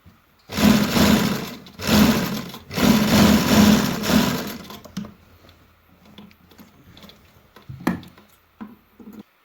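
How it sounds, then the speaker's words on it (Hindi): A sewing machine runs in three close, loud bursts while stitching the neckline edge of a baby kurta, then falls to quiet handling noises with one brief whir near the end; no talking. "गले की अगली तरफ को रख के किनारे पे फिर से सिलाई लगा देंगे"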